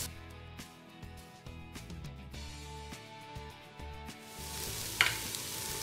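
Sliced onions fry in oil in a pan for fish dum biryani, a soft steady sizzle with occasional stir clinks, close but fairly quiet, over faint background music.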